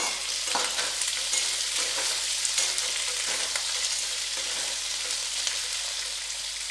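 Diced broad beans, eggplant and potatoes frying in oil in a pan, a steady loud sizzle with soft stirring scrapes throughout, no talking.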